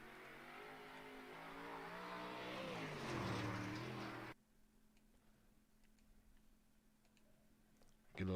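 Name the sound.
dirt track race car engine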